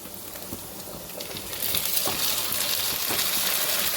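Spice paste goes into a pan of frying potatoes and the sizzle swells louder partway through, with a few soft clinks of stirring over the continuous hiss.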